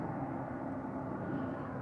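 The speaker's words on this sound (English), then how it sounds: "And there's the police helicopter." Police helicopter circling overhead in the middle of the night, a steady low rotor and engine drone holding evenly throughout, moderately distant with no talking.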